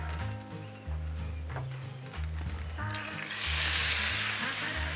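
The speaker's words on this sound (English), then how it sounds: "Let's throw down a little bit of oil here." Oil sizzling on a hot Blackstone flat-top griddle, a steady bright hiss that swells louder partway through, with low background noises beneath.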